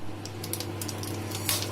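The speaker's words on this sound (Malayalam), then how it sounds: "കടുക് പൊട്ടി" Mustard seeds spluttering in hot oil in a pan while making vermicelli upma, with a quick, irregular series of sharp pops and crackles close by over a low steady hum.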